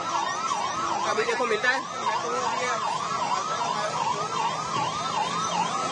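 Fire brigade vehicles arrive at the scene of an Air India plane crash into a hostel, their wailing sirens rising and falling steadily and loudly over traffic noise, with a voice speaking briefly.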